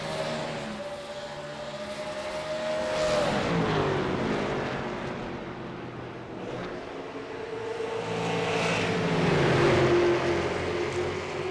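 Super Late Model race cars race around a track in Iowa, engines roaring loudly as they sweep past in waves, pitch sliding down with each pass while others drone further off, with no voices.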